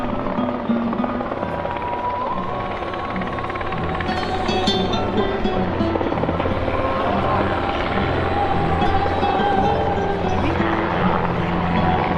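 A helicopter at an air show drones steadily throughout, a constant loud rotor and engine rumble with faint muffled voices mixed underneath.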